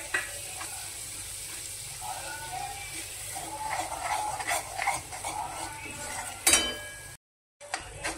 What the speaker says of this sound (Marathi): आता आपण टाकणार काहीच नाही, फक्त फ्राय करणार.